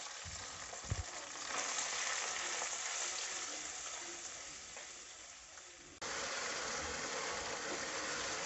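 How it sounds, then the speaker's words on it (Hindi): Ground spice masala with cumin frying in oil for a dhaba-style egg and spinach dish, a continuous close sizzle with occasional stirring scrapes and a brief knock near the start, no talking. "मसाला अच्छे से भुन चुका है, ऑयल अलग हो चुका है।"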